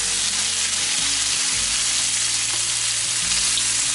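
Bacon rashers and tomato slices fry in a pan, a steady close crackling sizzle running throughout with a few low clunks, no voices.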